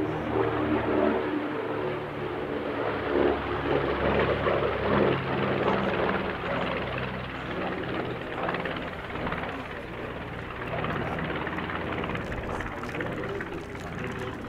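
A B-25 Mitchell bomber flies at an airshow, its piston engines producing a steady, loud droning rumble with a slowly shifting pitch as it passes, no talk heard.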